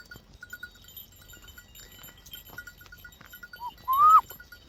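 Quiet outdoor ambience with faint tinkling bells, then one clear sheep bleat rings out near the end.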